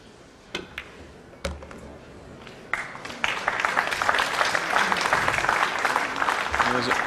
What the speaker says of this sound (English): There's almost grudging applause there